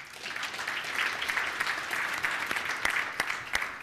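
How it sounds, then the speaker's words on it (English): A round of applause from an audience at a self-storage business presentation, steady dense clapping held at moderate level for a few seconds, with a few sharper individual claps near the end. "let's give Casey a round of applause"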